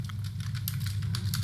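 Fingers type commands on a computer keyboard while configuring a network router, with rapid, irregular clicks of keys over a steady low hum.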